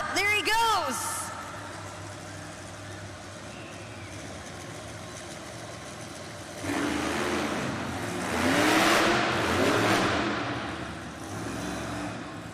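A monster truck engine revs hard and rises in bursts during a two-wheel freestyle run at a Monster Jam arena event in Worcester, Massachusetts, loud and close, with an announcer talking over it and crowd noise beneath.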